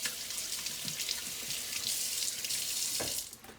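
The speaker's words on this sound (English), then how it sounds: "I'm going to wash my hands off" Hands being washed under a running kitchen tap, a steady hiss of flowing water with small splashes as the hands move through the stream, close and unaccompanied by talk.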